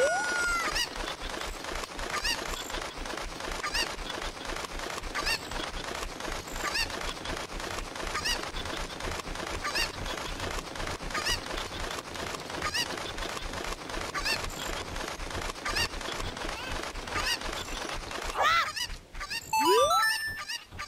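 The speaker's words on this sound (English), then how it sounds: "Why do you have chickens if you're allergic to them?" Cuccos, the chickens in Zelda: Ocarina of Time, make a loud, continuous chorus of clucking and squawking game sound effects. The racket holds steady for about twenty seconds and then breaks into a few sharp, rising cries at the end.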